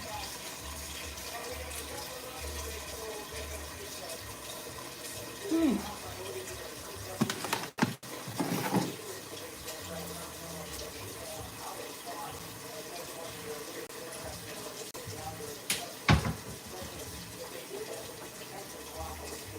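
Water runs steadily from a kitchen tap into a pot while spaghetti is being made, a continuous gushing fill with a few clanks and knocks of cookware.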